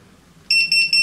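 A drone flight controller's alarm buzzer on a King Kong ET125 V2 quadcopter sounds three shrill, steady electronic beeps in rapid succession after a brief quiet moment, loud and close.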